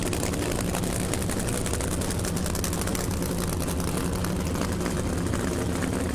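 A nitro-burning Nitro Express drag racing car engine at a nighttime race, a loud, steady, unbroken roar that fills the whole stretch.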